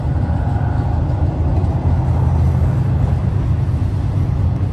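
A freight train approaches near milepost 65 in Sworthout Canyon on Cajon Pass. It produces a steady, heavy low-frequency rumble that swells slightly as it nears, with no voices over it.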